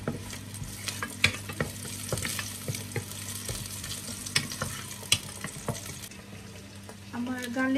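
Garlic fries in olive oil in a hot pan, sizzling steadily while utensils stir it with frequent clicks and scrapes; a brief voice-like sound rises at the end.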